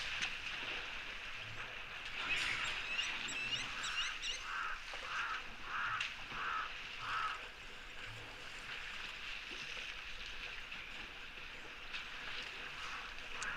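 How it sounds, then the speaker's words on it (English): Crows call in the background at a waterhole, a run of about six evenly spaced hoarse caws at moderate distance, preceded by twittering birds, then fading into quieter ambient noise. "you can hear some of the crows in the background"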